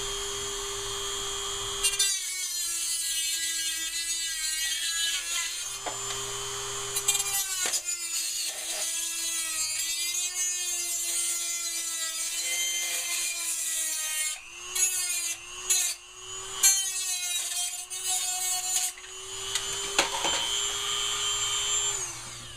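A hole is worked into an aluminum can for a DIY alcohol stove with a steady, high whining drill-like grind, running close and continuous with brief pauses and scraping bursts near the end.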